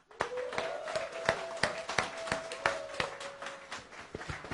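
An audience gives a standing ovation for a company founder at a corporate event in Bangkok, with a steady run of sharp, fairly close hand claps and a sustained vocal tone underneath.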